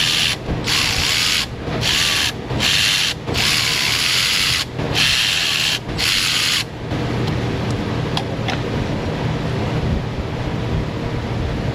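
Ratcheting tool loosening camshaft cover bolts on a BMW 528i engine, a little at a time: several loud bursts of fast ratchet clicking separated by short pauses, then a quieter stretch of faint mechanical noise.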